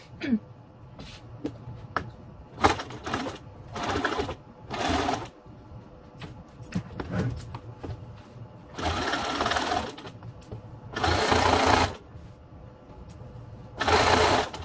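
A sewing machine stitches piping for boxed bay-window cushions with the presser foot at medium stitch length, several close bursts of rapid mechanical whirring separated by pauses with handling sounds and quiet moments.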